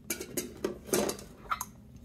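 Backpacking cooking pot and utensils are handled, giving a handful of light metallic clinks and taps in an irregular rhythm, close and quiet, with no voices.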